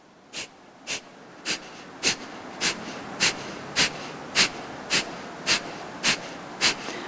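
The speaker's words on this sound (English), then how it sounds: "We're going to use a strong breath of fire." Breath of fire in Kundalini yoga: rapid, forceful exhalations through the nose, a dozen evenly spaced sharp puffs about half a second apart, close and clear over a low steady background.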